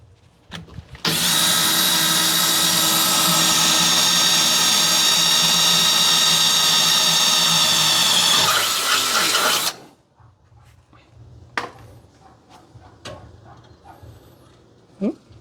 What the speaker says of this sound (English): Just drill a hole into the frame rail.